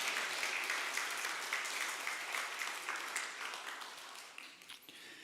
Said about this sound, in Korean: 힘차게 우리 환영의 박수로 우리 주안이 가족을 맞이하겠습니다.